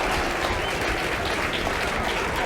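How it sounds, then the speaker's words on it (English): A crowd applauds in the video game The Lion's Song, a dense, even patter of clapping that holds steady throughout. "Clap, clap, clap, clap, clap, clap."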